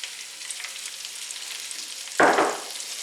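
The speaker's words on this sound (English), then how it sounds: "the bacon has rendered its fat. So now we can add the onions." Onions drop into hot rendered bacon fat in a pot for butternut squash soup. A sudden loud sizzle bursts out over a quieter background hiss, then fades to a steady fry.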